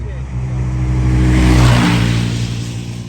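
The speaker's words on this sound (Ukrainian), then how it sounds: "Зараз там машина їде." A car drives past on a road beside a shod horse, its engine a loud, steady low rumble that swells and then eases over a few seconds, close by, with people talking faintly alongside.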